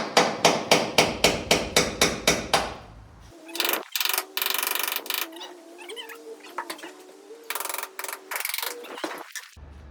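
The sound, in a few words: hammering with a tapered punch on seaplane bolts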